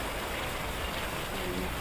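Steady rain falling during bad weather, a dense, even hiss that holds without a break from start to finish, with no other sounds standing out.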